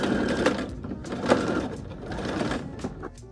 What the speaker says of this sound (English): Then make your buttonhole on the right front of the blazer.